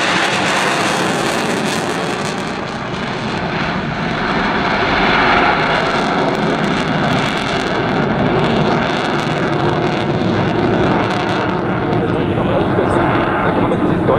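A MiG-29 fighter jet passing in landing configuration at the Payerne airshow, heard as a loud, continuous broadband engine roar that holds steady for the whole stretch.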